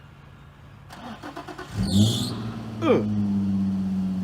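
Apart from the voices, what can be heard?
car engine cold start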